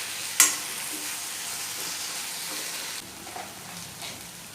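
Tomatoes roast in a pan for a chana dal tomato curry, giving a soft continuous sizzle with a sharp clink near the start and faint stirring scrapes, heard up close with no talking.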